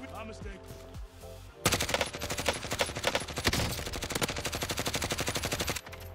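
Gunfire in the Warzone battle royale game: a few separate shots at first, then long, loud bursts of rapid automatic fire that run almost without a break before stopping abruptly.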